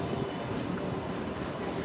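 A light rail tram passing close by at Wynyard, a loud continuous rumble and rolling wheel noise that holds steady throughout, with no voices over it.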